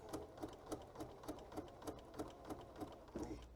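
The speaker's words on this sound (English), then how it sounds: "And I'm just going to stitch," A sewing machine stitches fabric, giving a quiet, even run of soft thumps about three per second that continue steadily for the whole stretch.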